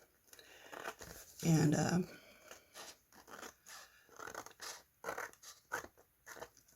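Scissors trimming handmade foiled cardstock, with close crinkly snips and rustling in short bursts, one louder crunchy cut near the start, and a person speaking briefly.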